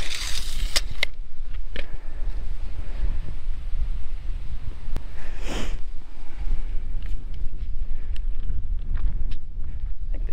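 Wind gusts buffet the microphone outdoors at a roofing job site, a steady low rumble with occasional sharp clicks and rustles and no talking.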